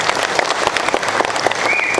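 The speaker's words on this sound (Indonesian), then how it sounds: "Boleh beri tepuk tangan untuk mereka." Crowd applause at a political gathering in Garut, dense continuous clapping from many people, loud and close, with a faint whistle near the end.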